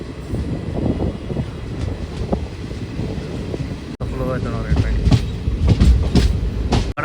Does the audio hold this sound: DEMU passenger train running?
yes